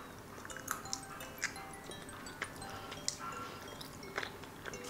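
Someone chews a plum-flavored jelly with a thick, chewy skin, making soft, close, wet squishing bites with small clicks scattered through a quiet room, and no talk.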